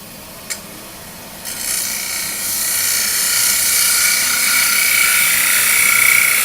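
A blunt hand tool carving out the inside of a wooden bowl, producing a steady rasping, scraping sound that builds and continues after a brief knock near the start, with no talking.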